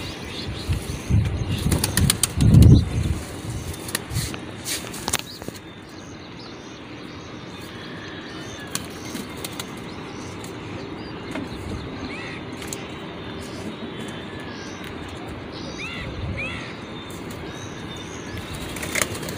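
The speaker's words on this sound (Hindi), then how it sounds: "पहले सारे कबूतर खोलता हूँ बाहर" Pigeons being released from their coop, with a burst of loud, close wing flapping early on, then quieter fluttering and occasional soft coos and chirps over steady outdoor background.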